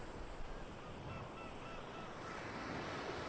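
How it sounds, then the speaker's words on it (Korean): Sea waves crash against a breakwater at a seaside village, a steady broad wash of surf and spray rolling on without pause, fairly close and unbroken by any voices. "파도는 방파제에 부딪혀 하얗게 부서진다. 철썩하고 오더니 금세 사라지고 또 다른 파도가"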